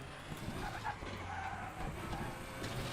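Tires skidding and scrubbing under hard braking in the RaceRoom Racing Experience sim racing game, a steady grinding rush of tire noise over car engine sound, continuous and fairly close for the whole stretch.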